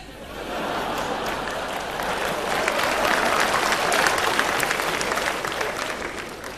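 A modest audience claps at a 1995 Hong Kong stand-up comedy show with Dayo Wong and Cheung Tat-ming. The thin clapping swells gradually, holds for several seconds, then tapers off.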